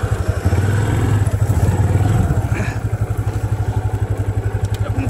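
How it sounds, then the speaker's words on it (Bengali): A motorcycle rides along a riverbed on a hill route from Jhandi to Dovan, its engine thrumming steadily and close, with a pulsing beat that loosens and clatters toward the end. "নদী দিয়ে বাইক চালিয়ে যেতে হবে"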